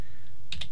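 Brief computer keyboard typing while editing in Premiere: a quiet background, then two quick close clicks near the end.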